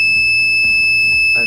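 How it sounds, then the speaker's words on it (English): A loud, continuous high-pitched buzzer alarm from an Arduino RFID home security system, sounding when the door opens, holding steady over a softer background rumble. "Now a buzzer is activated."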